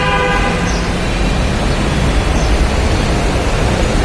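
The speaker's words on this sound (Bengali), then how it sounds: "যে মেট্রো রেল ওই পাশে" A metro rail train running past in Mirpur, Dhaka, producing a loud, steady rushing rumble with a brief tonal hum at the start, continuous throughout with no voices.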